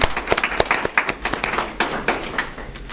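Clapping from an audience at a university candidates' debate, with distinct individual claps standing out in an uneven, fairly close patter that tapers off over a few seconds.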